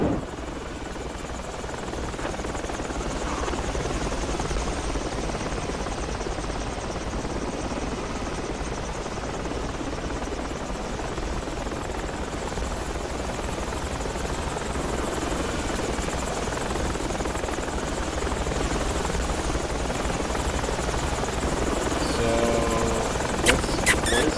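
Helicopter in the video game Project Reality, a steady, loud rotor and engine drone that holds evenly throughout with no pauses.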